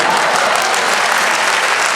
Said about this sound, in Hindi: अपन ताली भी बजा सकते हैं